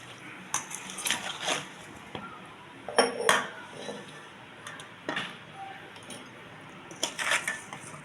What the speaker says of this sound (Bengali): এখন আমি শিশিতে ভরে নেব।